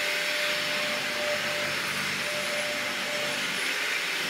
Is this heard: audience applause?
no